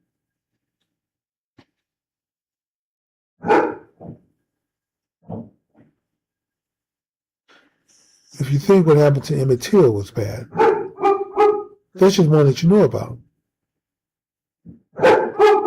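A house dog barks indoors: a couple of short sharp barks, then someone talks at length before another bark joins in near the end.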